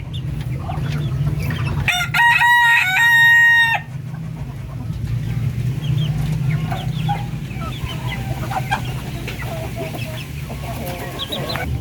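Native Filipino breeder chickens in a farm pen, one rooster crowing loudly near the start while hens cluck and chatter steadily throughout over a constant low hum.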